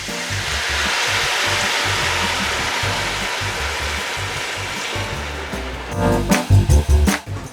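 Rabbit stew pan hissing and sizzling steadily as wine is poured in to deglaze it, a dense broadband rush that stays loud and even before giving way to a few sharp clatters near the end.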